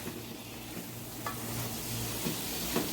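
Tomatoes go into a pan of frying mince and bitter gourd, giving a faint, steady sizzle with a few soft stirring scrapes, heard alone and close.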